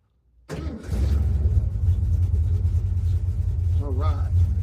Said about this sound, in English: So I'm going to test drive the black car down to the store